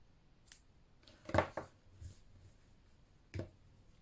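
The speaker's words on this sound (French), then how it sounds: "Je serre bien et je coupe le fil." Scissors snip crochet thread in a few quiet, close, crisp cuts, a quick pair of snips followed by a single one after a pause.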